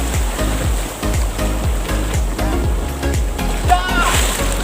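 Big sea waves splash and slosh around a small fishing outing for crabs in the Philippines, with loud, repeated surges of water close by and voices calling out over them.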